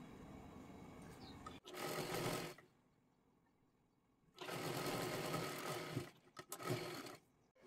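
Sewing machine stitching a princess-cut blouse, two main runs of quick, even mechanical stitching separated by a quiet pause, followed by a few short stop-start bursts, close but fairly soft.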